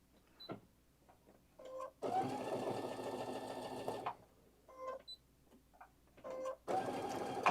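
Baby Lock sewing machine stitching fabric sideways, alternating short mechanical clicks and whirs with two sustained runs of steady, rapid stitching hum, close and moderately quiet.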